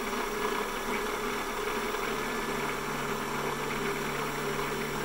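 A PM-728VT milling machine spindle runs at 2300 RPM, giving a steady, continuous mechanical whir and hum at moderate level with no talking.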